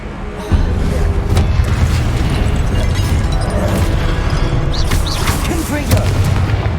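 Fire spell cast in the video game Hogwarts Legacy during a hard-mode battle: a steady, loud roaring rumble of flame and explosive bursts that lasts the whole stretch, with smaller crackles and pops on top.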